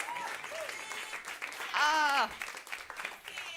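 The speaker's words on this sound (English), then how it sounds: "Keep clapping." Audience clapping at an evening storytelling event honoring farmers, a sustained wash of applause under a speaker's voice, with an exclamation from the crowd.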